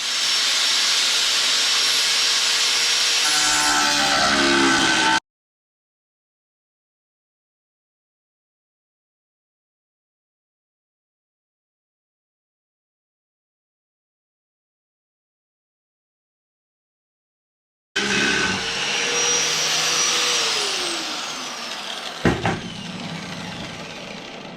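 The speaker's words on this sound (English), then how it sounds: "These I'm going to use a cutoff tool here to do." A cutoff tool slices through metal to fit new lights on a dump truck, giving a loud, steady hissing grind that stops for a long silence, then resumes with a shifting whine as the wheel bites and winds down.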